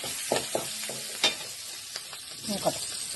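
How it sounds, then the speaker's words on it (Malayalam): Green chillies and garlic frying in oil for a Kerala-style ginger pickle give a soft, close sizzle, punctuated by scattered clicks and scrapes of a spoon stirring in the pan. "പച്ചമുളക് ഇതിട്ട് കൊടുക്കുക. മൂക്കാം ഇത് നന്നായിട്ടൊന്ന് മൂക്കട്ടെ."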